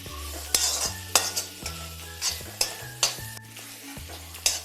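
Grated coconut with mushroom curry masala being sautéed in a pan: repeated stirring scrapes and spoon-on-pan knocks every second or so over a low, steady sizzle, close by, with no talk.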